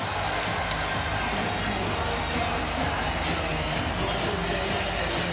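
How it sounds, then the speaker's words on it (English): Arena crowd at a Finland vs. Sweden ice hockey world championship game roaring and cheering after a Finland goal, a loud, dense, continuous wall of cheers and shouts. "Crowd's loving it."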